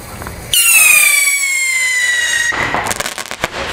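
A loud New Year's firework bursts close by with a rising whistle and a sustained crackling shower, followed by scattered pops.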